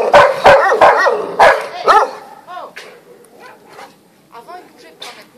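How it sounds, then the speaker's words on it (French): A Macedonian-bred dog, fourteen months old, barks in a quick run of loud, close woofs, then gives softer yelps and whimpers, while someone talks gently alongside. "Ah, que tu es un gentil chien."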